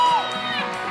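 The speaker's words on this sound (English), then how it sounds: "Somebody scream!" A congregation at a praise worship service screams and cheers, with a high whoop over a dense burst of crowd shouting that carries on loud through the moment.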